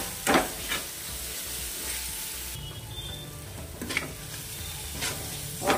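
Tomato and spice masala cooks and sizzles in a pan with a soft, steady frying hiss, punctuated by a few louder stirring scrapes, close and alone without talk.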